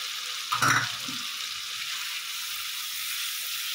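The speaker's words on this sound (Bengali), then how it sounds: "পোস্তটাকে আমি ভালো করে কষিয়ে নেব" Poppy seed and green chilli paste with a splash of water frying in oil in a pan, a brief sharp hiss and clatter at the start settling into a steady, soft sizzle close by.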